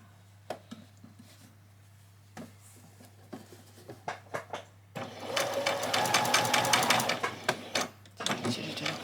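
Sewing machine stitching ruffles: short bursts of rapid clatter early on, then a longer, louder run of fast stitching from the middle onward, with a steady low hum underneath.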